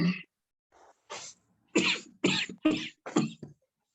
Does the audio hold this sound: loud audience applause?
no